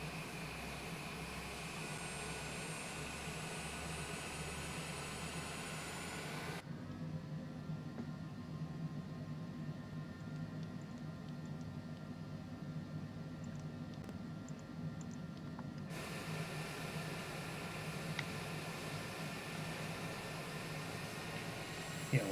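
Steady jet engine whine and broadband hum from a Cessna Longitude business jet taxiing in Microsoft Flight Simulator 2020, continuous and even in level, with the tone dulling for a stretch midway.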